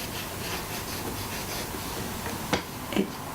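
A finger rubs a substance onto a rough altered book page, making a soft, steady scratchy friction heard close up. Two brief sharper scuffs sound near the end.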